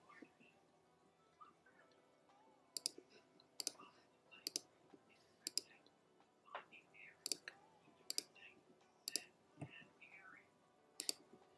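Mouse clicks while selecting stripe areas on a sneaker drawing in Photopea, a series of sharp, close, evenly spaced clicks, about nine in all, over faint quiet background sounds.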